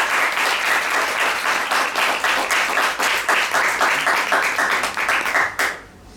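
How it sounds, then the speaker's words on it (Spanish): Sustained, dense applause from an audience for Manuela Carmena at a live talk-show event, holding steady and loud before tapering off in the final second. "os pido un aplauso"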